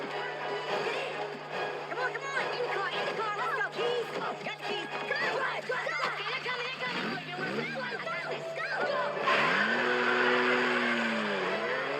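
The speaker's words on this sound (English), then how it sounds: "they break into the show car and they drive off" A stolen show car drives off in a movie scene, engine revving and tires squealing beneath overlapping voices and music, with swooping pitch changes and a louder surge near the end.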